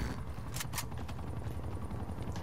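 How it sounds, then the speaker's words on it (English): Chopper gunner helicopter in Call of Duty: Black Ops Cold War on the Express map: a steady low rotor rumble runs throughout, with a few sharp bursts of gunfire cutting through near the middle. "Chopper gunner not doing much work."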